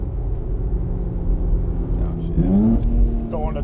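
Turbocharged Nissan Z with a VR engine accelerating after a downshift to second gear, a low engine drone rising in pitch near the end, heard from inside the car with voices over it.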